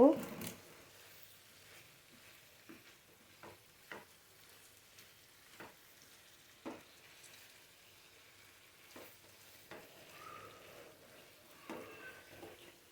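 Fried potatoes tumble into a spice masala for aloo dum and are stirred, giving a faint background sizzle broken by sharp, intermittent clacks of a spoon against the pan, with speech in places.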